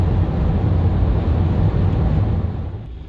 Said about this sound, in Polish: Słychać za to potężny sprzęt obok mnie, a więc ogromną betoniarę z telepiącymi blachami tu obudowy silnika wszystkiego.